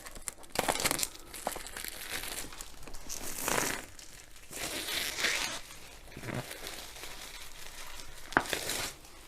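Protective plastic film peeled back from a sealed diamond-painting kit box gives off repeated crinkling and tearing rustles in bursts, close and fairly clear with short pauses between pulls.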